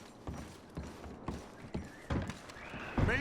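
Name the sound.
horses clip-clopping and neighing in video game Red Dead Redemption 2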